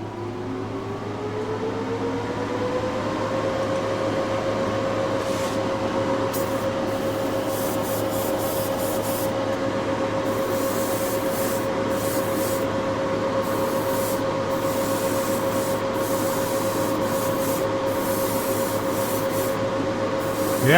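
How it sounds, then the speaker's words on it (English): Spray gun painting a car hood inside a paint booth, giving a steady continuous hiss of atomized paint that runs unbroken throughout over a constant low hum, with brief fluctuations in the spray. "So we've got the paint in the gun."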